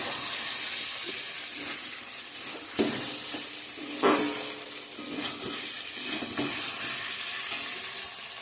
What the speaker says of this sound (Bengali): চিকেনটা বসিয়ে দিয়ে দিলাম ম্যারিনেট করা